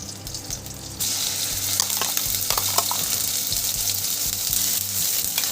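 Paste of green chili, ginger, garlic and onion hits hot tempering oil for a Durga Puja stuffed potol dorma, bursting into a loud, steady sizzle after a quieter start, with faint stirring scrapes throughout.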